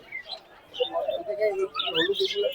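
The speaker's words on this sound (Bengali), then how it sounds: "এগুলো হচ্ছে লাভবার্ড পাখি" Lovebirds chirp and twitter in short bursts at a busy pigeon market, their high calls mixed with other birds and faint crowd noise nearby.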